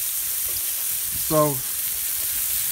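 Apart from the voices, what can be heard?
smash burger patties and onion slices sizzling on griddle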